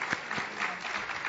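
Audience applause at the 2013 congressional Tri-Caucus plenary session, a short burst of steady, dense clapping from a crowd in a hall, with no voices over it.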